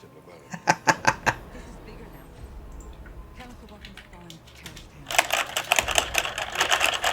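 Clicky computer keyboard typing in quick clusters of keystrokes, close and fairly loud, first a short rapid burst and later a denser run, with a person talking between them.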